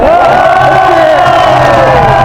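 Crowd at a rally cheering and shouting together, a loud sustained roar of many voices filling the whole moment without a break.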